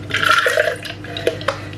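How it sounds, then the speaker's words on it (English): Oat milk poured into an old-fashioned measuring jug, heard as a steady, close liquid stream that tapers off into a few light drips and splashes, with no talking. "I'm going to do 100 millilitres of milk, oat milk."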